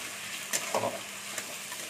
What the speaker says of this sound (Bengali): রসুনটা আমি একটু হালকা ভেজে নেবো